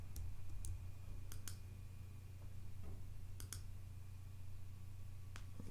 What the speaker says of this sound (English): Hold down the Option key and click.